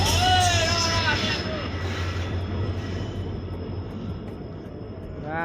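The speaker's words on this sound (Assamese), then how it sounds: "ট্ৰেইন আহি গ'ল এতিয়া ট্ৰেইনত উঠিব লাগিব" A train rolls into a station with rumbling wheels and high, sliding squeals of brakes that gradually fade, while voices murmur in the background.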